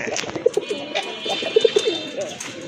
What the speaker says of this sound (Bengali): এখানে কিছু আপনার সিঙ্গেল কবুতরের কালেকশন রয়েছে